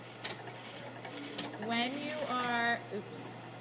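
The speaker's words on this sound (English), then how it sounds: "Now I want to stay stitch it in place, so I'm just going to go around the whole thing right on the edge." A sewing machine runs steadily as it stay-stitches along the edge of fabric, its whirring stitch rhythm clear at moderate volume while a person speaks briefly over it.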